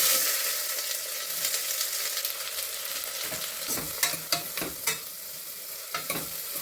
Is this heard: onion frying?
yes